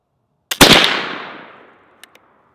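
A .32 caliber flintlock rifle fires outdoors: a brief crack of the pan flash, then a split-second later the loud main boom, which rings out and fades over about a second, followed by two faint distant ticks.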